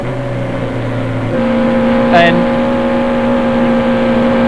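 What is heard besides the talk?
Formula Vee race cars passing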